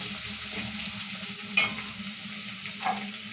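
Spices tempering in hot oil for a puntikura (gongura) chutney, giving a steady close sizzle and fry with a stirring scrape around the 1.6-second mark and a small clink near the end.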